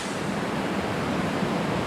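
A waterfall on the Franconia Ridge trail rushes in a steady, loud, broadband roar close by, unbroken for the whole moment with no other sounds.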